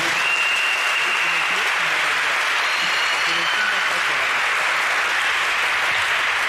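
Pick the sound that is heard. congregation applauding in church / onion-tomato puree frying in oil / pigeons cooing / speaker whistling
congregation applauding in church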